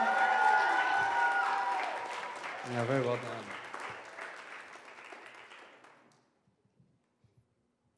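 An audience applauds a band after a song at a livestreamed Naked Faith show, a steady wash of clapping that slowly thins and dies away, with a voice speaking briefly over it.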